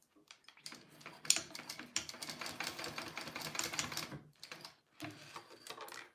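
A sewing machine top stitches a fabric on-the-go pouch with rapid, close mechanical rattling in two runs, a longer stretch, then a brief pause before it starts again, quiet overall with no talking.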